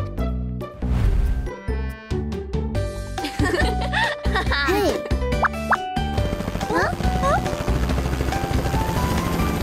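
Helicopter in a cartoon about Rapunzel and Raquelle decorating a castle, mixed with plops, musical effects and laughter, with speech over parts of it; a dense, whirring noise fills the second half.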